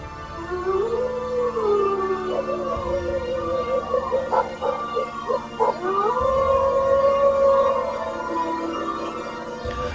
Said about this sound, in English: we hear the faint howl of the dogs